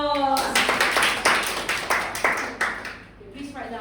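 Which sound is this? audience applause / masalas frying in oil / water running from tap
audience applause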